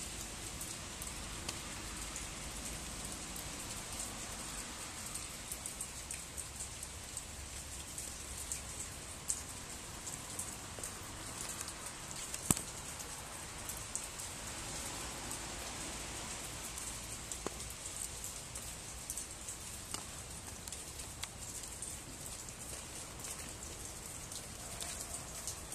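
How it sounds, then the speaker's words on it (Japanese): Steady rain falls outdoors as a dense, even hiss of drops with scattered sharper drips, moderately faint and continuous throughout with no voices. "春樹さん、なぜ雨なのに外にいるんですか"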